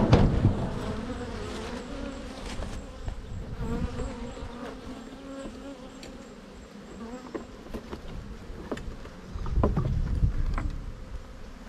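Honeybees buzzing around beehives during a mid-July honey harvest visit, a continuous close droning hum with individual bees passing near, swelling louder toward the end.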